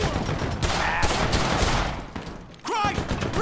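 Rapid, loud machine gun fire in the police mod LSPDFR for GTA, a dense continuous burst close by that drops out briefly before resuming, with a shouting voice over it.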